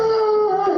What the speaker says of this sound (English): Their golden doodle Loki began barking.